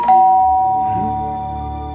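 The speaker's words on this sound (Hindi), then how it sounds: "अब डोर बेल बजेगी" A doorbell rings once with a clear, sustained electronic chime that slowly fades, loud and alone.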